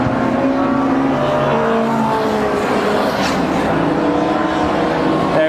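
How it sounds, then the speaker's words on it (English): Racing cars from CTC Thunder and BOSS qualifying pulling in and out of the pits at Brands Hatch, engines droning and revving continuously at moderate distance, with a brief whoosh of a car passing midway. "A lot of the cars pulling in and out."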